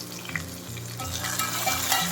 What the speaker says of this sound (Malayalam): കടുക് താളിച്ച്.